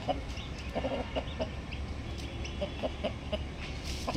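A black Aseel rooster of the Madipura type, a hot-tempered bird, gives soft, scattered clucks close by over a steady low background murmur.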